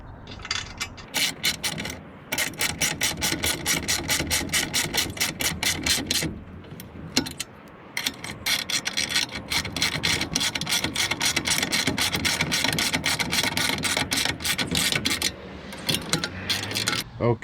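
Rapid ratcheting clicks sound up close as awning mounting bracket bolts are tightened on a Prinsu roof rack, in long bursts with a couple of brief pauses.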